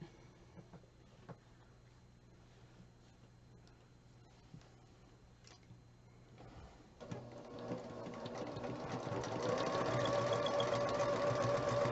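Sewing machine stitching a quilt flying geese block, starting as a soft background hum and rising after a few seconds into a louder, steady mechanical whir.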